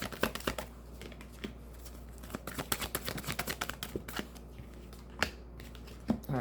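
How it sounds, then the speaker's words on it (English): Tarot cards drawn and flicked from a deck during a reading, a run of quick crisp papery snaps and shuffles, close and fairly soft, with a couple of sharper slaps near the end. "let's get 3 cards for Capricorn"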